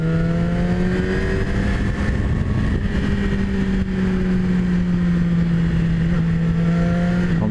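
A 2017 Yamaha R6 sport motorcycle engine drones steadily and loudly throughout, its pitch rising and falling slightly as the rider holds revs, with wind rush underneath.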